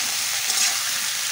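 Raw jackfruit fries in goat fat with turmeric and a pinch of salt, giving a continuous, bright sizzle close up with no voices.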